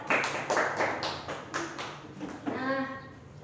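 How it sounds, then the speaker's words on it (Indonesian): A classroom group claps hands in a quick run of sharp claps, with voices talking over and after the applause. "Tepuk tangan dulu untuk kita."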